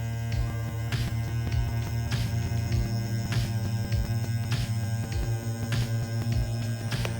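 A low, steady electric hum from a MasonKing fully automatic electric mason jar vacuum sealer drones on with a faint throbbing pulse, quiet and close, with no talking.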